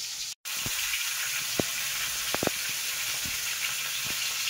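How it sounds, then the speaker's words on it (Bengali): Fish frying in oil in a pan on a gas stove gives off a constant close hiss, with a few soft taps and pops over it and one brief drop to silence near the start. "এদিকে গ্যাসে কিন্তু মাছ ভাজছি"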